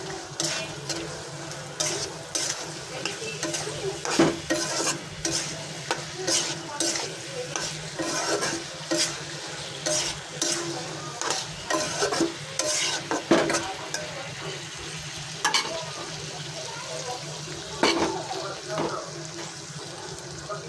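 Potato pieces sauté in a pan with turmeric for a Bengali home-cooked dish, a steady close sizzle broken by repeated scraping stirs of a utensil against the pan.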